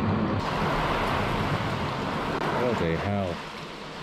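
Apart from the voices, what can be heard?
torrential rain heard from inside a garage during a storm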